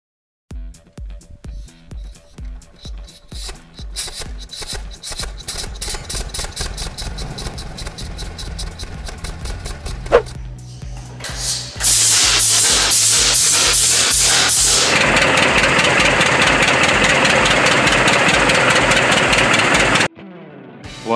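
An old diesel tractor engine cold-starting after many years, first slow uneven cranking and sputtering, then catching into a loud, steady rattling idle that runs for several seconds before cutting off abruptly.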